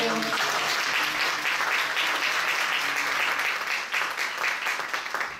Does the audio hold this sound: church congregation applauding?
yes